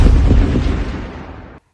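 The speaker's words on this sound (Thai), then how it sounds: "เกิดเสียงดังตูมจากด้านหลัง" A heavy boom bursts out loud and close as a sound effect in an audiobook. The rumble fades over about a second and a half, then cuts to silence.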